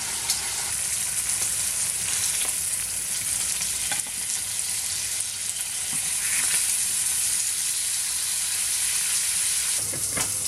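Pheasant breasts sizzle in a hot pan, a loud, steady frying hiss with occasional crackles and stirring scrapes, no talking.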